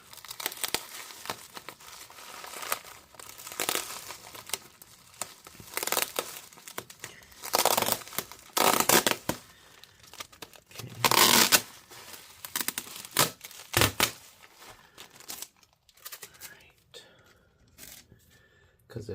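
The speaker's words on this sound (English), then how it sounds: "this one they actually fold it over so I can peel the adhesive off" Adhesive tape being peeled off the screen of an HP Spectre x360 15-eb0043dx laptop, close crinkly tearing and crackling in irregular bursts with quieter gaps between, a few louder rips.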